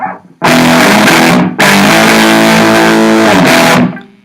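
An electric guitar played through a high-output JB pickup with volume and tone at 10 rings out in two loud, sustained crunchy chords, the second held for about two seconds before fading.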